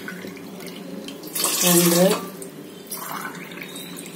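Water poured from a steel tumbler into a cooking vessel for ragi kali, a single splashing pour lasting about a second, its pitch rising as the vessel fills, between stretches of spoken talk.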